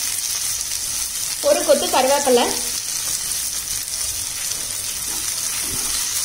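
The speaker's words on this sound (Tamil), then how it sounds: "இப்போ எல்லாத்தையும் நல்லா ஆயிலில் ஒரு 2 நிமிஷம் வதக்கிக்கலாம்" Onions, garlic, ginger and curry leaves sautéing in oil give a soft, steady frying sizzle throughout, while a voice speaks briefly near the start.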